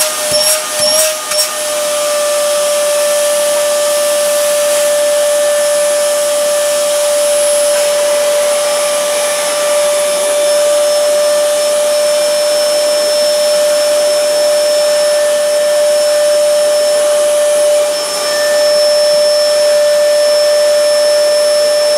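A Hoover Arianne 1400 vacuum cleaner runs continuously with a loud, steady whine and high-pitched motor tone, close by, after a couple of brief clicks at the start, with no talking.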